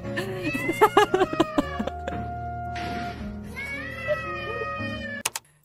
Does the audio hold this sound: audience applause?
no